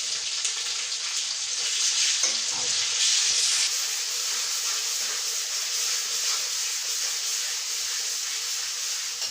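A ground paste of ginger, onion, garlic and cumin sizzles and hisses steadily in a hot pan while cooking shutki lara, a steady frying sound with a brief stir partway through.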